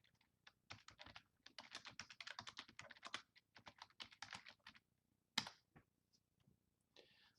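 Someone types on a computer keyboard in quick, irregular bursts of clicking keystrokes, close and fairly quiet, with short pauses between runs and a sharper tap near the end.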